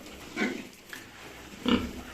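Pigs of about 100 kg being fattened on dry feed on a farm, giving two short grunting squeals about a second apart with a quiet background between them.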